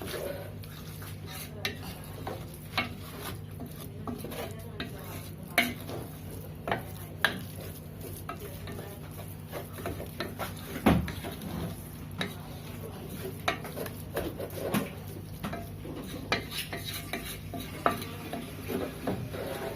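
Chili powder sautéing in a pan for a Kerala-style fish curry, a spoon scraping and stirring with steady clinks and soft scrapes over a faint sizzle, close and fairly busy throughout.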